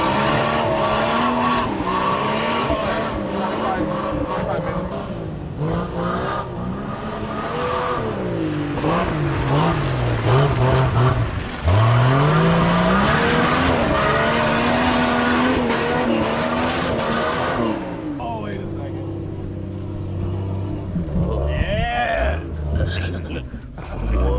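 A Ford Ranger swapped to a 5.0 engine plows through mud on an offroad track, its V8 revving hard and rising and falling as the tires spin and skid, loud and close for the whole stretch.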